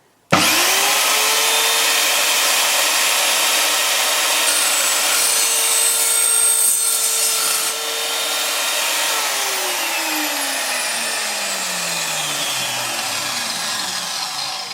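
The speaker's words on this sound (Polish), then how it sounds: "cięcie tą piłą było tak proste" A battery-powered saw cuts through a dirt bike handlebar, a loud, steady high-pitched whine that holds for several seconds and then drops in pitch as the blade winds down, heard close up with no talking.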